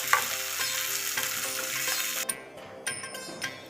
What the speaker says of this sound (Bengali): এবার আমি আলুটা ভাজবো।